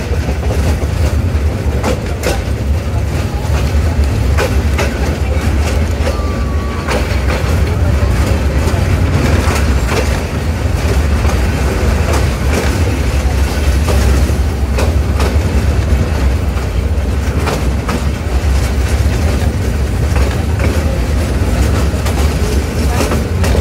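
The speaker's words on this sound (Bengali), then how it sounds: "আমাদের ট্রেনটি এখন সরারচর রেলওয়ে স্টেশন প্রবেশ করছে" Egarosindur Provati Express rolling into Sararchar railway station, a steady low rumble with faint rhythmic clicks of the wheels, heard from inside the carriage for the whole stretch.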